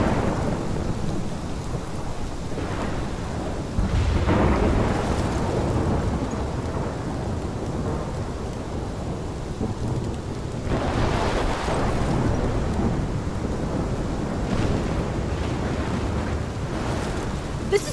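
A thunderstorm in the Life is Strange video game: steady heavy rain with repeated rolling thunder peaks across the whole stretch, loud and continuous with no voices.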